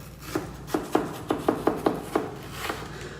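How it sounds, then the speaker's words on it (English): Knife cuts the rind off a watermelon on a cutting board, giving a series of about ten short, moderately close thuds at an irregular rhythm with no talk. "is cutting off the rind of my watermelon so I can stick it into the blender"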